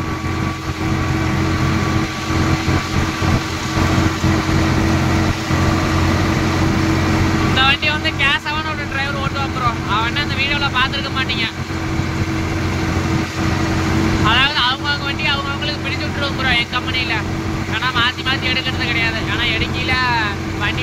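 A Swaraj 744XT tractor engine runs steadily throughout with a low, droning hum, while people talk over it for much of the time.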